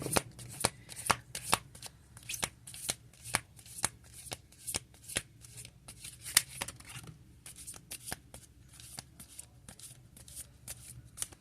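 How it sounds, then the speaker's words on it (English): Tarot cards are shuffled repeatedly by hand, close up, in quick, rhythmic bursts of crisp snapping and riffling over about a dozen seconds with no speech. "So I'm going to go ahead and pull some tarot for your pile 2"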